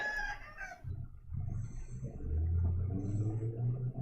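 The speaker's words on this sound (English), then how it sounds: "That chicken is just as annoying as the cat I have right now." A rooster crows over soft, steady farmyard clucking, the fowl calls fairly faint and distant across a continuous low background with no voices.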